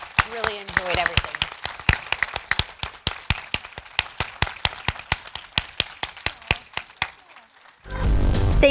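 A short burst of clapping from a small group at a live podcast panel, sharp irregular claps that end abruptly, followed by a different, denser noise.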